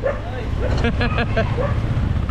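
Several dogs bark and yip in short overlapping bursts at a camp spot after dark, fairly loud and close, with people's voices mixed in.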